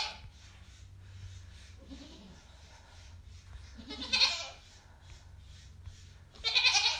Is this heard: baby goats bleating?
yes